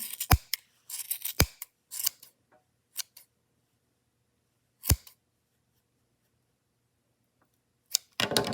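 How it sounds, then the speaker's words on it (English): Scissors snip through orange yarn pom-pom loops in a quiet room, a handful of sharp, close cuts in quick clusters separated by pauses. "we're going to cut through all the loops on either side"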